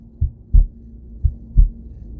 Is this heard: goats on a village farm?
no